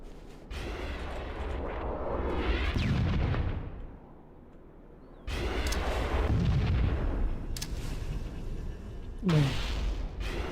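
Gunfire and explosive blasts from Halo: Combat Evolved, including a thrown grenade, come as two loud sustained bursts of booming, crackling fire with a quieter gap between them and a sharp pop near the end.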